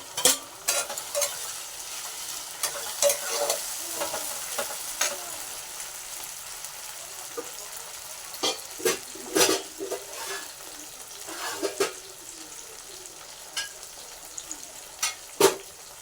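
Chili paste, ginger, garlic and chopped tomato fry in a pan with a soft continuous sizzle, punctuated by sharp scraping clacks of a spatula stirring at irregular intervals.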